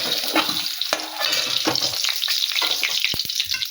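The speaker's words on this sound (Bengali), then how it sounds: "দেখো মাছ ভাজা হয়ে গেছে। এবারে আমি মাছগুলো তুলে নেব।" Tengra fish frying in hot oil in a wok give a steady, close sizzle with bursts of spattering and a few sharp clinks of a utensil near the end.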